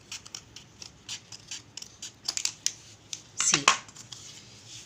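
Scissors cutting through a sheet of A4 paper, a series of short crisp snips in quick irregular succession, close and clear, ending in a couple of louder rustling cuts.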